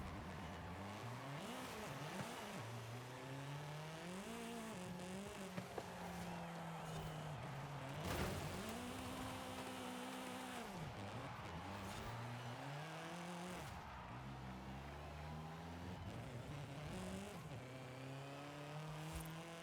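An '85 Toyota Trueno races in a driving video game, its engine revving high and climbing through gears with repeated shifts and brief drops in pitch, close and loud, with occasional tire noise.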